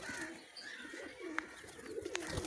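Pigeons coo softly among faint rustling and a few sharp chirps, sounding fairly distant and quiet over a low background hum, with no talking.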